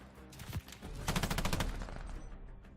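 Rapid automatic bursts of assault rifle fire from an M4 in a first-person shooter video game crackle fairly faintly, with a short burst followed by a longer sustained stream of shots.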